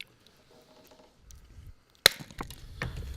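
Uncooked dry lasagna noodles snap and crunch in someone's mouth up close, a sharp brittle crack followed by several crisp chewing crunches after a quiet moment.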